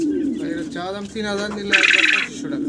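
Red checker racer pigeons coo in a soft, throaty, repeated rumble at close range, with brighter chirping bird calls and other farm pigeons mixed in.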